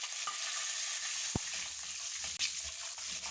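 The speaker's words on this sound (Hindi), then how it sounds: "तो अब इसमें डालते हैं ये गरम मसाला, ये मिक्स, इसमें गरम पत्ते हैं, जीरा, लौंग, काली मिर्चें और बड़ी इलायची" Whole spices (bay leaves, cumin, cloves, black peppercorns and black cardamom) frying in hot oil, a continuous bright sizzle with a couple of sharp stirring knocks.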